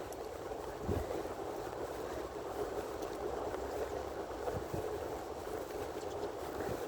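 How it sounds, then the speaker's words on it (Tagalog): Steady rushing wind noise buffeting outdoors, continuous and fairly loud, with a low rumble underneath and no speech. "Pito yung hangin."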